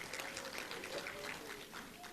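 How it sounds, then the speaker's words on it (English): Applause from an audience at an ANC NEC Lekgotla political gathering, a dense wash of clapping that stays even and moderately distant for a couple of seconds with a faint voice mixed in. "Yes, we should applaud to that."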